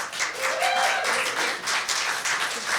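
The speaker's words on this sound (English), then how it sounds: "let's give them a round of applause" An audience at a club gathering at Lunar Studios claps for performers about to take the floor, a dense, steady patter of applause lasting a few seconds.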